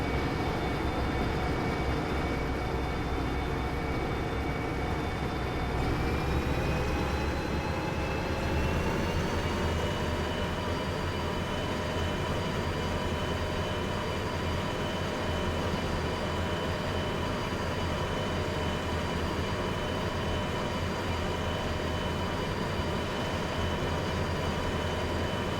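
Train locomotive running in the VR video game Derail Valley: a steady, loud rumbling drone with sustained whining tones that shift upward as it gathers speed, continuous and close, with no talk.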